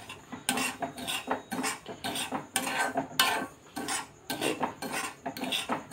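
Semolina stirred and roasted in a pan over low heat, a steady rhythm of spoon scraping against the metal pan, repeated strokes every half second or so, close and clear with no talk.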